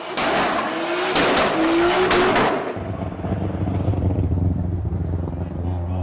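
Loud bursts of several hundred modified cars revving with sharp exhaust cracks and pops in the first half, then a lower idling rumble settles in with distant crowd noise.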